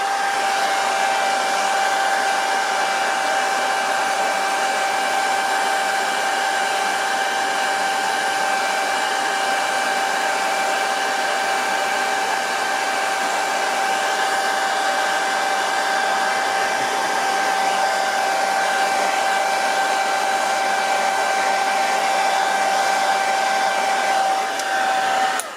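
A hair dryer blows continuously on freshly soap-washed Singer 201K sewing machine parts. It makes a steady, loud, even whoosh with a constant motor hum and no pauses.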